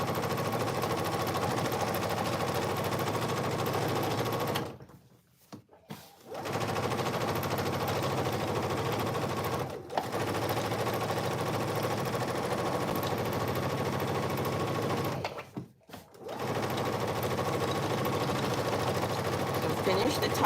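A sewing machine top stitching cargo pants runs in long steady buzzing bursts, stopping briefly twice, then again, fairly quiet and close, with no speech over the stitching.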